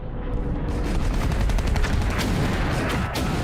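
Dense, continuous battlefield gunfire and booming blasts from archival footage of the battle for Madrid in the Spanish Civil War under Franco's assault, a steady loud barrage with rapid overlapping reports.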